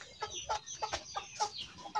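Free-range chickens cluck in short, repeated bursts at a farm pen during feeding time, several close, fairly quiet calls spaced irregularly with no talking.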